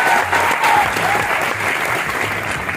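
Dense, steady clapping from a large audience at a direct-selling company meeting, including the people seated at the back, holding at full loudness throughout with no pause.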